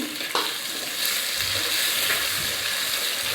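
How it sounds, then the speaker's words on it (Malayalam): Tomato dropped into a pan of well-browned garlic and shallots, sizzling and frying steadily close up with stirring scrapes, the hiss swelling after the tomato goes in. "അപ്പോൾ നമ്മൾ തക്കാളി ഇടാം കേട്ടോ കുറച്ച് തക്കാളി ഇട്ടാൽ മതി"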